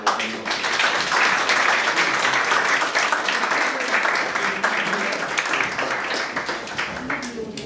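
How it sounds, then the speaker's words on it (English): An audience at the end of a meeting breaks into applause, a dense, sustained burst of clapping that holds steady throughout and eases slightly near the end. "big round of applause for Jane"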